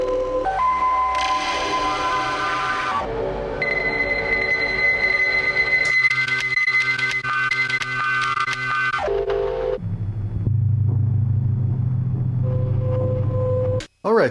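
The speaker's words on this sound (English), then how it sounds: "And I love to use the reverb on this also." A modular synthesizer performance rig plays sustained, shifting tones and drones washed in reverb, changing abruptly between sections, loud and continuous, ending in a brief dropout and a short burst.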